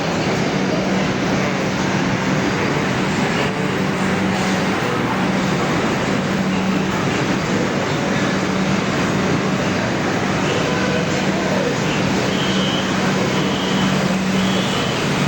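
Loud, continuous rumble and roar of a Kolkata metro train running, with a steady low hum and whine throughout, no voices.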